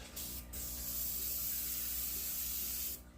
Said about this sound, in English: Seems to be spraying okay.